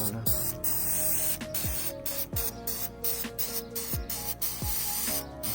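A can of spray paint hisses in repeated bursts while a coat goes on, each spray lasting about a second with short gaps between them, close and steady.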